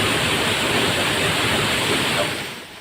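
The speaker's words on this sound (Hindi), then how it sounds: "बारिश की वजह से झरने का ये रूप दिखा है" Monsoon-swollen waterfall near a temple in Bihar, a loud, dense, unbroken roar of rushing water that fills the whole clip and eases slightly at the very end.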